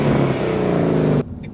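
A Ford Mustang GT V8 revs hard with a loud, sustained engine note from close by, then drops off sharply, leaving a quieter idling rumble.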